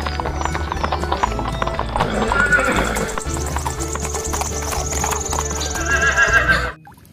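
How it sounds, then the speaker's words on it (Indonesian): A horse whinnies while hooves clip-clop in a steady rhythm. The sounds are loud and busy, with jingling layered over the hoofbeats, and they stop abruptly near the end. "Wah, ini kuda."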